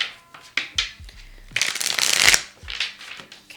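A deck of Iris Oracle cards is shuffled by hand at close range, with a few short riffles and slaps followed by one longer, louder burst of rustling cards, then softer shuffles trailing off.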